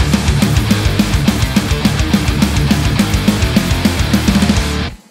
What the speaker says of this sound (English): a fat, distorted guitar riff backed up by an equally gritty bass is the foundation of something heavy